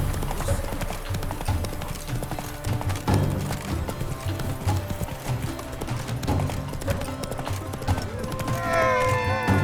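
Hooves of a horse named Roach clip-clop at a steady trot in The Witcher 3, a continuous rhythmic beat over game music, ending with a short whinny near the close.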